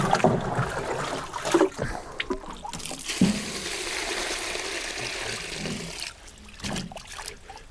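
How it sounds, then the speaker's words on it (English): Rainwater poured into a container of weeds for homemade fertilizer, a continuous close splashing and gurgling trickle that sloshes and pauses briefly near the end, with no speech. "Once it's most of the way full, we can just add our water."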